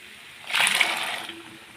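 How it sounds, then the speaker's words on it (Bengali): Boiled peas are poured into a pan of cooked-down masala for ghugni, making a brief wet splash and slosh close to the mic. "এই যে মটর সিদ্ধ করা, এখন আমি ঢেলে দেবো"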